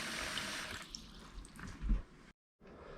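Water gushing and splashing from a 2022 Keystone Montana RV's freshwater line as it is flushed out onto the yard, a steady broadband rush for about two seconds, a brief cutoff, then resuming.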